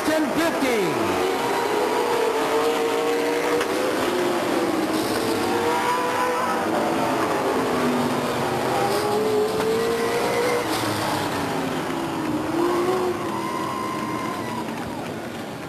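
Late model race cars roar around the Stockton 99 Speedway oval during a 50-lap feature, engines droning and rising in pitch as they pass, with a steady loud crowd-and-track wash and a commentator talking over it.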